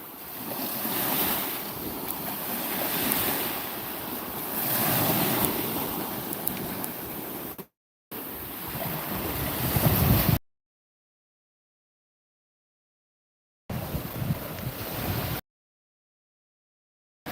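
Surf rolling ashore and steady wind buffeting the microphone on a Florida barrier island beach, a continuous broadband wash with swelling wave surges, broken by abrupt silent gaps.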